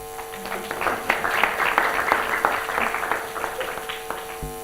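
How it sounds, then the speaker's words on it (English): Lecture-hall audience at IIT Bombay applauding a health talk, a dense, sustained patter of many hands over a steady electrical hum, stopping abruptly at the end. "Come on, clap."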